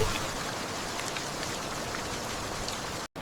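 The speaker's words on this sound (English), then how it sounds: "Outside, rain touched the world with quiet patience." Steady rain falls outside a parked van late at night, a dense even patter that holds unbroken and fairly close before cutting out abruptly near the end.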